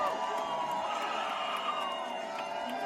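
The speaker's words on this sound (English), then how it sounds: "when the race was called, the crowd erupted" An election night watch party crowd at the Park Hotel on Madison's Capitol Square, cheering and whooping steadily all the way through, with a dense wall of mixed voices and no single voice standing out.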